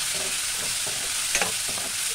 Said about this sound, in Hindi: अब यहाँ पे टमाटर हमने जो काट के रखे थे वो डाल दिए हैं।